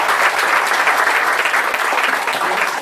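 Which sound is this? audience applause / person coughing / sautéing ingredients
audience applause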